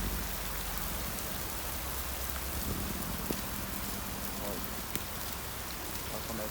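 Heavy rain pours over a city street in Arapongas, with flooding runoff, a dense continuous hiss of drops and rushing water close by, and a brief spoken word over it.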